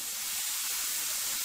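A pressure cooker cooking toor dal hisses steadily as steam escapes, a continuous broad hiss heard alone and close for the whole stretch.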